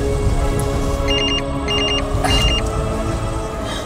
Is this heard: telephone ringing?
yes